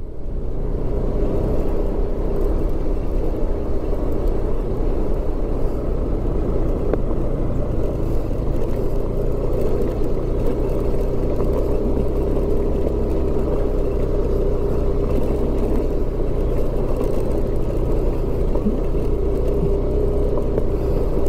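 Motorcycle riding over a rough, rocky, potholed road in Mindanao, Philippines: a steady, loud engine drone with low rumble and jostling that runs unbroken throughout, with no talking.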